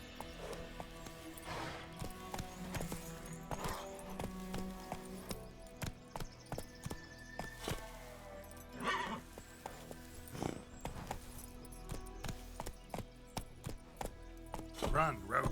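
Hooves of Roach, the horse in The Witcher 3, clip-clop at a gallop amid game sounds and whinnies, quiet and uneven, with brief talk mixed in.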